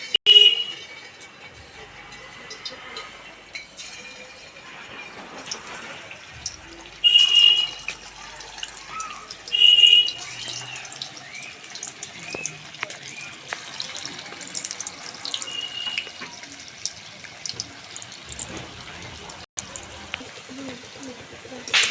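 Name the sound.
raw potato balls frying in hot oil in a wok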